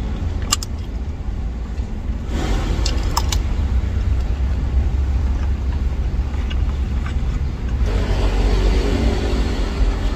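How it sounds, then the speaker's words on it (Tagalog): Traffic of many cars passing beside a stopped Grab SUV, a loud continuous low rumble with vehicles swelling by, plus a few light metallic clinks near the start. "Daming sasakyan ngayon, no?"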